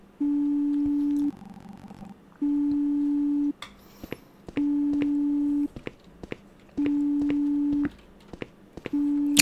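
An unanswered phone call in the game Big Head rings out as long, steady electronic tones in a slow repeating pattern, each about a second long with gaps between, with faint clicks and movement in the pauses.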